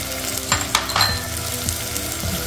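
Green beans, carrot and cauliflower fry in a pan with a steady sizzle, broken by a few stirring scrapes and utensil clinks against the pan, close up with no talking.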